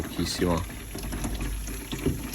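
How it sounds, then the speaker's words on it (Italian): A bidet tap with limescale-clogged pipes gives only a weak, thin stream of running water, a steady soft splash in a bathroom, partly under someone speaking Italian. "Vedete, viene pochissima acqua proprio sul bidet, proprio pochissima."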